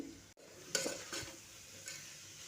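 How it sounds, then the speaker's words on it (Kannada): Rice khichdi with vegetables being stirred in a pot, a spoon scraping and swishing through the soft mixture in a few close strokes over a faint sizzle, with no voices. "ಇದನ್ನೆಲ್ಲ ಚೆನ್ನಾಗಿ ಮಿಕ್ಸ್ ಮಾಡ್ಕೊತಾ ಇದ್ದೀನಿ"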